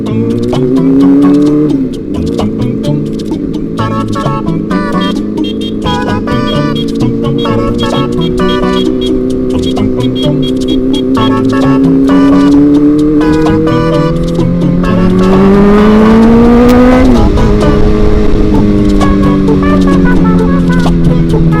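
A vehicle engine revs loudly and continuously on a street, a harsh sustained roar that rises and falls in pitch and swells sharply near the end, close and dominant throughout.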